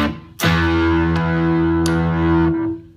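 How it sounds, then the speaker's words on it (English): An electric guitar through the overdrive channel of an Ammoon PockRock mini multi-effects amp rings out sustained distorted chords, struck sharply and held for about two seconds before fading, close and loud with no talking. "Then we have the overdrive channel."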